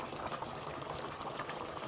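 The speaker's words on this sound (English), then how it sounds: "So I just added water and allowed to boil this way." Water boiling in a pot for a green stew with fish: a continuous, even bubbling and hissing, moderately close and steady throughout.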